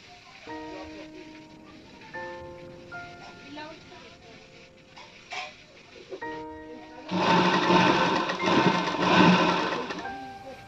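A sewing machine runs in a sustained, loud, buzzing burst of about three seconds while stitching a princess-cut blouse, with a person talking before the machine starts.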